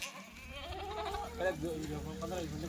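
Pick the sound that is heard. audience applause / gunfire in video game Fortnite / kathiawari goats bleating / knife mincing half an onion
kathiawari goats bleating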